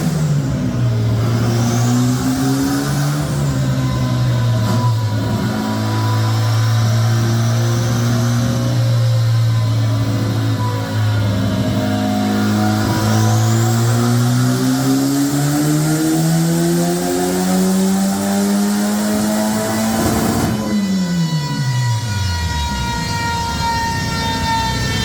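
Turbocharged Citroën C15 engine running on a dyno with cardan boots blown, a loud continuous engine drone that rises and falls in pitch through revving, with turbo whine above, then a sudden drop as the revs fall away.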